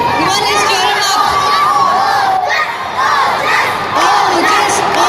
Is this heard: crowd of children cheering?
yes